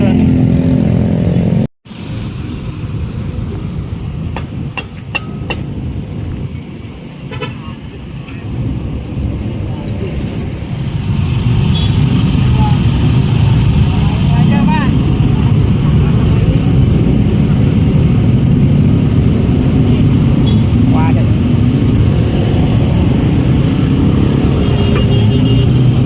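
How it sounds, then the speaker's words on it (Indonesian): Car engine running with a steady, loud low rumble that grows fuller after a short break, a broad continuous drone close by with faint clicks at the start. "Mesin mobil."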